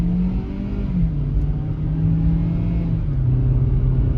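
2019 Kia Rio LX with 100,000 miles driving, a steady low engine hum and road rumble from inside the car, with pitch shifting slightly as speed changes.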